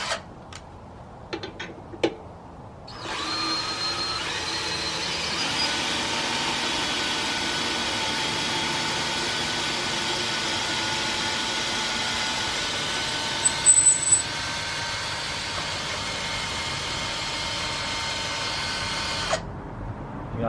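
A power drill on its highest torque setting drives a custom Mitsubishi Starion scissor jack, a steady loud whirring grind that runs unbroken for about sixteen seconds, with a few clicks before it starts and a brief squeak midway, no talking.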